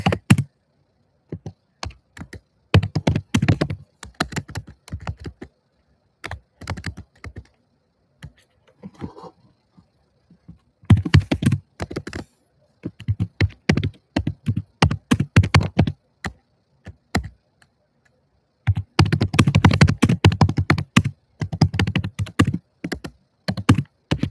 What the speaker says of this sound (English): I'm just typing this real quick.